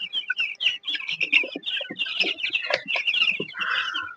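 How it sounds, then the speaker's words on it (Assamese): Newly hatched local chicks just out of an incubator machine cheep constantly, with high, overlapping peeps close by and no talking. "এয়া মেচিনৰ পৰা নতুনকৈ পোৱালি ওলাই আছে"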